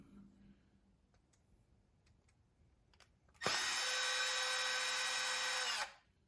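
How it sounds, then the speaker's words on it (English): After a few quiet seconds with faint clicks, a small power drill removing screws from an Axial SCX10 III RC truck whirs loudly and steadily for about two seconds, then winds down. "I did get a smaller drill, so I'm not using my big M18"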